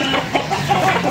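Several Mulawin Bulik chickens, hens among them, cluck in a steady, close-up burst with faint background noise and no talk over them.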